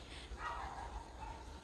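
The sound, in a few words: dog barking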